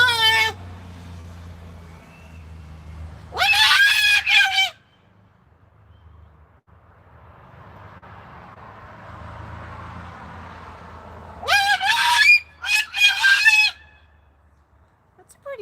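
Max, a pet bird, lets out two bursts of loud, piercing shrieks, the first short and the second a longer run of several cries, separated by a stretch of quiet low hum.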